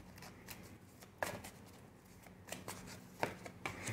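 Tarot cards shuffled and laid out by hand, a faint run of soft papery riffles and crisp taps, with a few sharper flicks as cards are set down.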